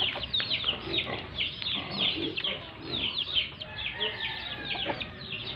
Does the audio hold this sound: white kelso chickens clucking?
yes